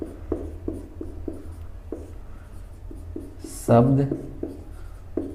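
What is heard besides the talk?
writing on a board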